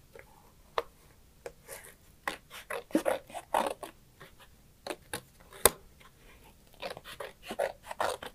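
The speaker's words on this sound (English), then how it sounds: "you're just going to use your scissors" Scissors snip through paper in short, irregular crisp cuts, some bursts close together, with brief quiet pauses between them.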